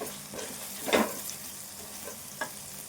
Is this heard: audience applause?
no